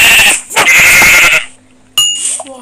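A sheep in the Minecraft video game bleats twice, a long loud wavering bleat followed after a pause by a shorter one, close and alone.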